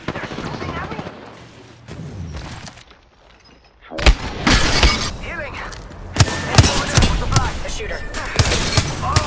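Rapid gunfire and rocket blasts from a team match in the video game Apex Legends, quieter bursts at first, then a dense run of loud, sharp shots and explosions after a brief lull, with voices talking over the action.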